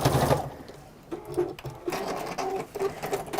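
A sewing machine stitching textile runs in close, steady rhythmic bursts, pausing briefly and restarting several times with no talking.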